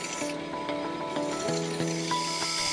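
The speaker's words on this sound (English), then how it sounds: "a light touch with the file knocks off the burr from the cross hole" A hand file lightly deburrs a cross hole on a steel clamping-tool workpiece held in a home-shop lathe, giving quiet rasping strokes over a steady tonal machine hum.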